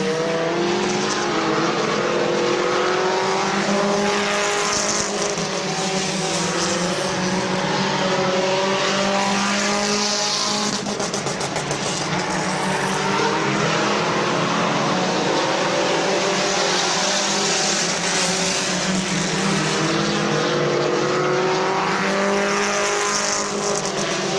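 Compact race cars roar around Midvale Speedway, engines droning loudly and steadily with rising and falling pitch as they run close together on the oval, with no voices over the noise.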